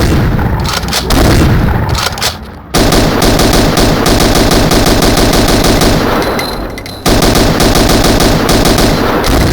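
Veteran mercenaries' weapons firing in VTMB, loud, dense automatic gunfire in sustained bursts with booming impacts, broken by two brief pauses before the barrage resumes.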